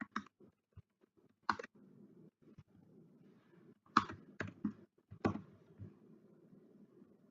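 Typing on a computer keyboard to fill in a name in an online form, irregular soft key taps with a few louder clicks, close and quiet with no speech.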